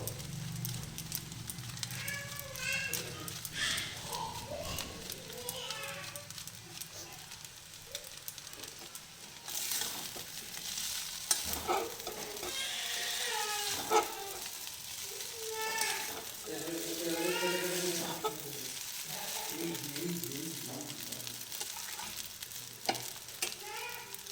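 Veg chowmein noodles fry and are stirred with masala, producing steady sizzling and repeated scraping and tossing, with voices heard intermittently in the background.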